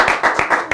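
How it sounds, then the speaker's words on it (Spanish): Applause for the music teacher Homero on a Spanish-language program, heard as a few loud, close, evenly spaced claps in a quick rhythm. "Un aplauso para el maestro Homero, por favor"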